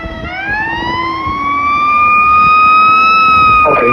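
A fire engine's siren responding to a fire alarm wails loud and close, rising in pitch and holding steady over the engine rumble of the truck.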